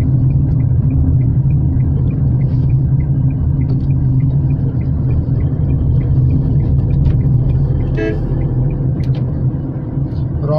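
A Tata Tigor drives along a city road on the wrong side, its cabin filled with a constant low engine and road rumble, loud and steady throughout, with a faint click or two near the end.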